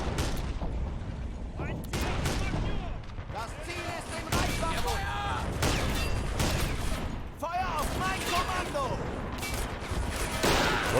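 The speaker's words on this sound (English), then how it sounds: "We have 2 soldiers firing AT rifles at literally point-blank range." Anti-tank rifle fire in the WWII strategy game Men of War: Assault Squad at Stalingrad, loud repeated sharp gunshots and bursts of battle noise mixed with other combat sounds, a voice talking over it.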